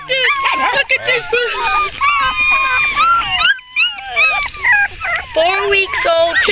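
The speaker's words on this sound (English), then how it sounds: "We've got the big dogs out here too" Big dogs and four-week-old puppies out on their first trip outdoors, heard as continuous high whimpers, yips and squeals from the puppies, loud and close, with a person talking over them.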